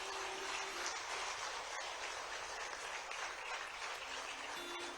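A large audience at a Madhya Pradesh chief minister's interactive session in Pune applauds in a steady, continuous wash of clapping that lasts throughout without talk over it.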